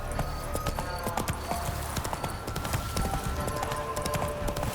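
The horse Roach galloping in The Witcher 3, a rapid, steady drumming of hooves on ground at close range, continuous and fairly loud with rhythmic clip-clop beats throughout.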